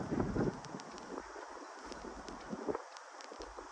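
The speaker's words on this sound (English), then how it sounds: "Wind's picking up." Wind blowing across open outdoor ground, a steady gusty rush with buffeting on the microphone, moderately loud throughout with no voices.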